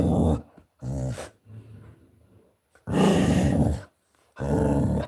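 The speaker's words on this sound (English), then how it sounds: "That's my dog. She sees people outside" A pet dog growls and whimpers in loud, close bursts, broken by short pauses, as she reacts to people outside.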